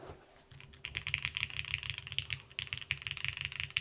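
Rapid clacky keystrokes on a Moonlight mechanical keyboard fitted with CRP keycaps, typed in quick irregular bursts close to the mic, with a steady faint electrical hum underneath.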